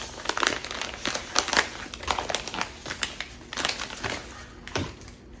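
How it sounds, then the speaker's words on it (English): Crinkling and rustling of an item wrapped in cardboard being slid into a 9x6 DVD-size padded envelope, a string of close, irregular crackly bursts with short pauses between them. "And then I'm just putting it in a regular DVD size 9x6 padded envelope."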